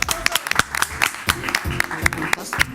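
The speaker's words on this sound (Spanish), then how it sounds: "Por favor, por un aplauso." Applause from a small studio audience on a talk show, a sparse patter of distinct individual claps in an uneven rhythm, close and fairly crisp rather than a dense roar.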